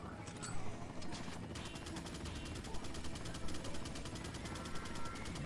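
Gunfire in the video game Resident Evil 4, rapid repeated shots crackling over a dense, noisy game soundscape, fairly steady in loudness.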